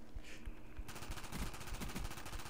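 Rapid automatic gunfire from the Black Ops video game, bursts of close, loud shots hammering steadily for a couple of seconds with no pauses.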